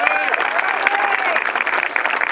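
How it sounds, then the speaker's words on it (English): Fans at a Tabor College versus Sterling College baseball game applaud in a short, steady wash of clapping from the stands, with voices chattering and calling out beneath it. "we want to give you a big applause too"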